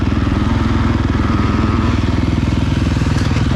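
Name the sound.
2023 KTM motocross bike shifting with quickshifter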